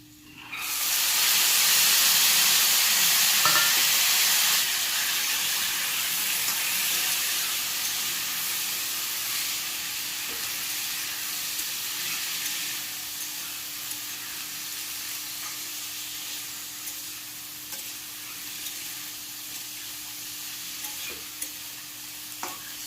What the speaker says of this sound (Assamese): এতিয়া মই চানাকেইটা ভাজি ল'ম।